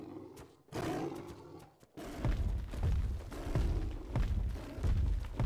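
A tiger roaring in the video game Ark Scorched Earth, deep rumbling growls that swell and repeat after a short gap, loud and close, with a few thuds and no speech.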